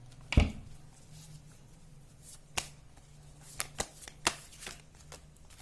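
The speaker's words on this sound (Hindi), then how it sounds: "2 कार्ड्स और निकालती हूँ" Tarot cards are shuffled and drawn from a deck, giving a sharp riffle at the start and then scattered soft snaps and clicks as single cards are pulled. The sounds are quiet and close.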